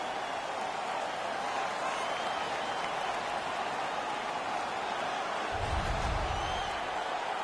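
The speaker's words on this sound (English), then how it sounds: "The home crowd is ecstatic. They're making all kinds of noise." An arena crowd cheering after a fight in the ice hockey video game NHL 19, a steady roar of noise with a low rumble swelling near the end, heard under commentary.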